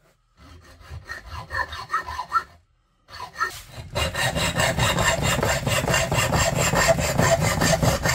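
A hand saw with a poor blade rasps through wood in steady back-and-forth strokes, pauses briefly, then resumes in a faster, denser run of cutting.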